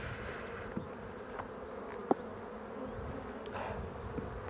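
Bees swarming around a full beehive in May, a dense continuous buzzing close by with occasional faint clicks and knocks.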